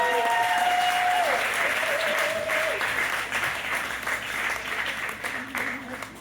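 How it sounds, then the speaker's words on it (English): Audience applause at a holiday comedy show as the host is welcomed, dense clapping that gradually tapers, with a few voices and faint background music mixed in. "clap it up for your host, Amy Thompson"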